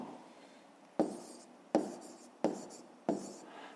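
A pen or pencil writes out a fifth-grade math exercise, four short scratching strokes tapping down at a steady pace, close and dry with a soft hiss between them.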